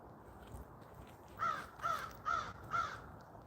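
A crow caws four times in a steady, evenly spaced series, each call harsh and fairly close, rising clearly above a quiet background hiss with no talking.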